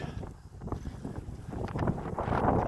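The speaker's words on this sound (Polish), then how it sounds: "tylko że ten wiatr jest dosyć silny i tak wieje tu z lewej strony" Strong, gusty wind blows across a carp-fishing lake at Miłoszewskie. It buffets the microphone in low, rumbling surges that grow louder toward the end.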